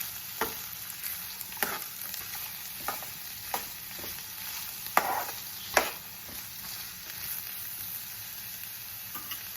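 Green chilies and turmeric stirred in a frying pan make a soft continuous sizzle, broken by a series of distinct spoon scrapes and knocks against the pan at irregular intervals.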